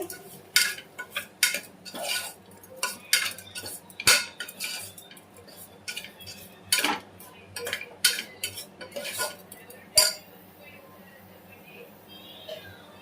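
A metal spoon stirs chicken masala into jackfruit-seed pulao in a pot, producing repeated clinks and scrapes against the pot at an uneven pace while a voice talks over it.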